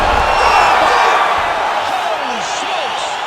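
An arena crowd cheers and roars in the UFC 5 fighting video game as a bout ends, loud and sustained and fading slightly, with a commentator talking over it.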